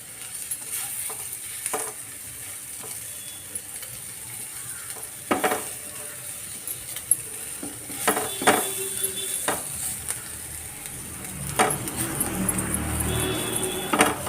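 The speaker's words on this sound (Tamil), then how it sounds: "இது கொஞ்சம் நேரம் அப்படி பரட்டி பரட்டி போட்டுகிட்டே இருந்தோம்னா நல்லா மொறு மொறுன்னு வந்துடும்" Pieces of colocasia root stir-fry in a pan until crispy, a soft sizzle broken by repeated scraping and clinking strokes of a spatula against the metal that grow busier toward the end.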